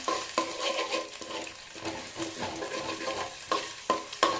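Egg for chicken fried rice being stirred in a hot street-food pan, a loud, busy scraping and clattering over a continuous sizzle, with several sharp metal knocks near the end.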